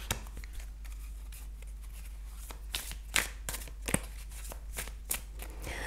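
Tarot cards being shuffled continuously, a steady papery riffling with sharper snaps and taps throughout, close up with no voices.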